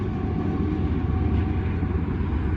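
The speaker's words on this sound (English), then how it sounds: "there's a freight train going by." A Canadian Pacific freight train rumbles past nearby in Toronto, a steady heavy low roar with faint rattling and a slight tonal hum, continuous throughout.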